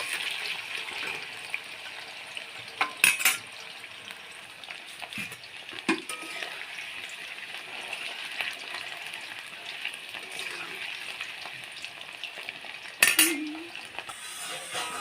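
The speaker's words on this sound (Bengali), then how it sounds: "আলুটাকে এবার লাল লাল করে ভেজে নেব" Potatoes fry in mustard oil in a wok, giving a steady close hiss of sizzling with a few sharp clinks and scrapes of a utensil against the pan.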